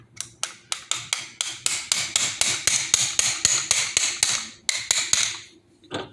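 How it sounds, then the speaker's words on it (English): Close, sharp metallic hammer taps, about twenty of them in a quick steady rhythm with one short pause, as a small hammer drives a 7/16 socket on an extension to tap a piston pin out of a Harley-Davidson engine's connecting rod. "I just take a 7/16 socket with an extension,"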